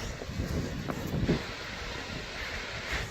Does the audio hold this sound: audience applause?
no